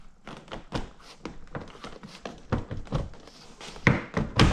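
Plastic retaining clips of a car door interior panel popping loose as the panel is pulled off during window tint prep, a run of close, sharp snaps and thunks of varying loudness, louder toward the end.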